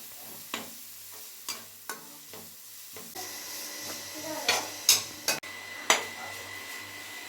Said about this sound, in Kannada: ತುರಿದಿರೋಂಥ ಕ್ಯಾರೆಟ್ ತುರಿ, ಸ್ವಲ್ಪ ಕೊತ್ತಂಬರಿನ ಹಾಕ್ಕೊಂಡು ಚೆನ್ನಾಗಿ ಫ್ರೈ ಮಾಡ್ಕೋತಾ ಇದ್ದೀನಿ